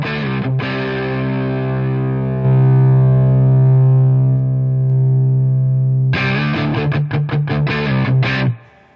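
A heavily distorted electric guitar with hot pickups through an AmpliTube Mesa Boogie Mark IIC+ amp simulator holds a sustained chord, then chugs out a burst of fast, choppy strummed chords before cutting off abruptly.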